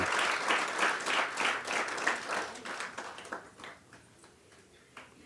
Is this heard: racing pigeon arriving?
no